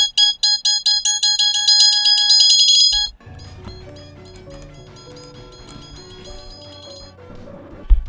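A little bomb enemy's countdown timer in a video game: a rapid run of bright electronic beeps ticking for about three seconds, then a muffled blast and a rumbling, clattering tail that fades under a low murmur.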